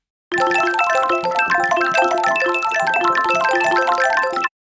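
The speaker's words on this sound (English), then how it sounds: "which is just a vibraphone, a music box," A shimmering granular texture of vibraphone, music box and kalimba tones, dense overlapping bell-like notes ringing continuously for about four seconds, then cutting off.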